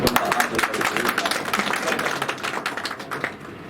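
Attendees at a press meeting with senior civil servants applaud to welcome an official, a crisp, crackling patter of many hands clapping that carries on steadily and fades out, with speech mixed in.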